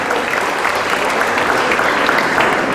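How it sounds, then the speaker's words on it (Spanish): Congregation applause at a Sunday parish mass, steady dense clapping from a crowd filling the room throughout, fairly loud and continuous with no break. "Otro aplauso aquí, hermano"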